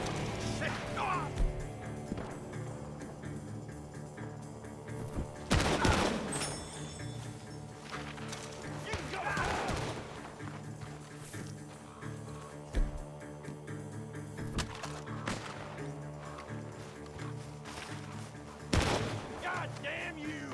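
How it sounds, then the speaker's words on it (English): Scattered bursts of gunfire and sharp impact cracks from a barn in Red Dead Redemption 2 over a droning background, several loud shots spaced irregularly, with brief shouting in between. "Gunshots are coming from that barn!"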